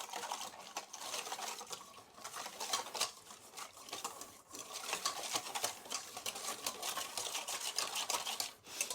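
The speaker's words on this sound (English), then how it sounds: "we're just going to start whisking that up" Flour and salt whisked together in a bowl for bread dough, a fast, steady scratchy whirring that stays faint and close with no talking.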